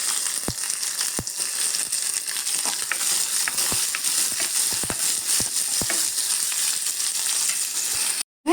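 Onion and green chili fry in a hot pan with mustard seeds and cumin, a steady close sizzle broken by scattered sharp crackles and pops, ending in a brief cutoff.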